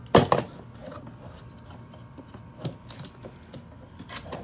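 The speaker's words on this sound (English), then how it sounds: "Let's take these clamps off and see if we wrecked it." Cherry-wood clamps being loosened and taken off a newly glued ukulele: one sharp wooden clack near the start, then scattered light knocks and rubbing, close by, with no talking.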